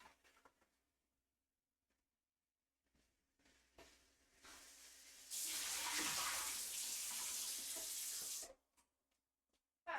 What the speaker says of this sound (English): Okay, cold water, we're rinsing our potatoes.